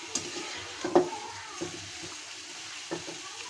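Goat head meat stirred and fried with turmeric and spices in oil, giving a soft sizzle under scattered scraping spoon clicks against the pan, one sharper knock near the start, fairly quiet and close.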